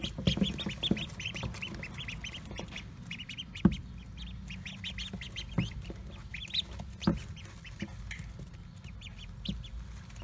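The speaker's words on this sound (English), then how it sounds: "these are our 6 mallards" Six young mallard ducks quack and chirp continuously at close range, a busy chatter of short calls over a low rumbling background with occasional louder peeps.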